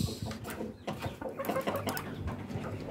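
Rhode Island Red breeder hens clucking inside a breeder cage, a busy overlapping run of short calls at close range, fairly steady in loudness with faint background noise.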